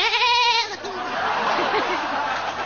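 A goat bleats loudly and close by, one long wavering cry followed by a rougher, noisier continuation against steady background noise.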